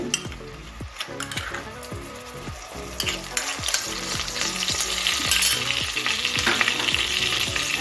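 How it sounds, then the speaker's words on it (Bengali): Onion paste fries in hot oil for a chicken jhaal fry while a spatula stirs it, a continuous loud sizzle punctuated by rapid rhythmic scraping strokes against the pan, close and without speech. "পেঁয়াজ পেস্টটাকে ভালো করে একটু কষিয়ে নিচ্ছি"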